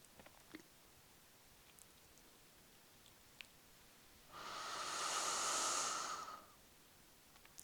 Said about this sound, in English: Deeper breathing than you've yet breathed today.